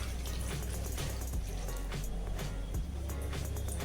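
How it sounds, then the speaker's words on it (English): Water poured into a pan of mixed vegetables for Kerala-style avial, a steady splashing fill running on without a break, close and fairly loud, with no voices over it. "And we have to add small amount of water"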